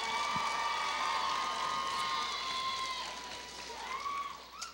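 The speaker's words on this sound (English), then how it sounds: "Let's have another round of applause for our diverse contestants." A high school audience at a Council Rock North pageant claps and cheers for the contestants, a crowd roar with shrill whistles and shouts that eases off slightly toward the end.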